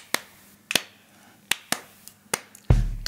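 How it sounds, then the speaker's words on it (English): A few people clapping their hands, sharp close claps in a loose, uneven rhythm with short gaps between them, ending in a louder thump and a low rumble. "I want to do some hand claps"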